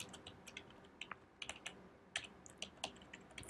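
Typing on a computer keyboard during iOS app work in Xcode, with quick irregular clicks and clustered keystrokes, close and fairly quiet, with no talking.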